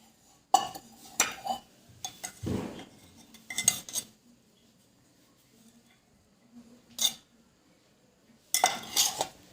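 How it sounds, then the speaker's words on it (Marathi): A spoon whisks cornflour and ghee into a paste in a bowl, heard as short separate bursts of metal clinking and scraping against the dish, with quiet pauses between them. "आणि व्यवस्थित फेटून घ्यायचं याला चांगली पेस्ट बनवायची याची"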